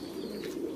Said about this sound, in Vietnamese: Đây là những cặp chim bồ câu